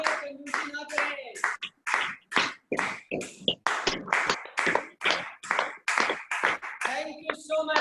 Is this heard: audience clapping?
yes